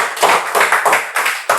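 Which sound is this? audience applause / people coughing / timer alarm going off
audience applause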